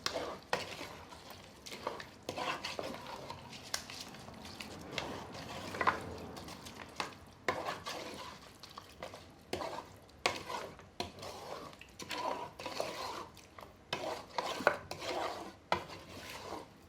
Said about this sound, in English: Mix it in with the tomato paste